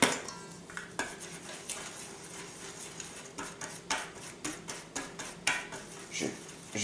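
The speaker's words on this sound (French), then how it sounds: "ce sont les ingrédients secs que je commence à déjà mélanger. Donc je mélange. Je mélange." A utensil scrapes and taps against a bowl while dry pancake ingredients are mixed, in a quick irregular series of light clinks and knocks, close and fairly quiet with no talking.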